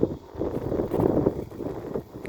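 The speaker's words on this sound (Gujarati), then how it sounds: "પવને આજ તો ઉપડી ગયો" Gusty wind over a cumin field buffets the microphone with a continuous low rumble and rushing noise, rising and falling.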